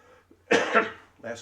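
A single short, rough cough bursts out close up, followed by a brief second throaty sound, with a voice nearby.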